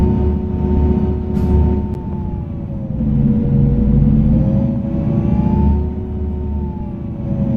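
Bus engine in a Euro Truck Simulator 2 bus mod with ProMods on the Kirkenes mine road, a steady low rumble and drone that swells and eases with throttle, with a brief hiss-like burst early on that could be an air brake.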